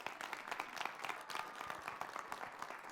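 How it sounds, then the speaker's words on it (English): Audience applause at an evening gathering, a continuous patter of many hands clapping, fairly faint and heard alone without talk. "One more big round of applause for Mark."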